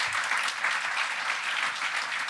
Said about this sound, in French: Oui, je crois qu'on peut vous applaudir.